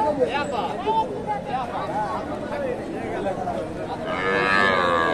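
A cow moos at the Dakumara cattle market in Bogura, Bangladesh, a loud, drawn-out low call close by, with someone talking and crowd chatter around it.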